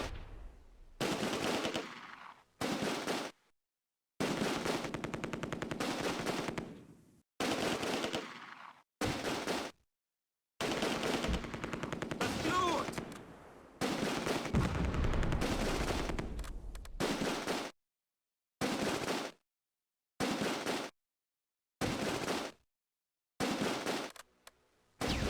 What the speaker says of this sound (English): it becomes a firefight for fire superiority between my squads along the hedge and the enemy platoon